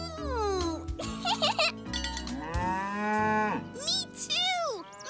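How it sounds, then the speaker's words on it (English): A cartoon cow moos repeatedly with a cowbell clanking along, bright sustained voiced calls layered over a busy animated soundtrack, loud and close throughout. "Moo!"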